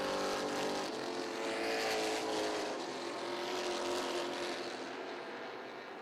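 Stock cars roar around a short track during a limited stock car feature, several engines blending into a loud, continuous sustained drone with rising and falling passes and no voices.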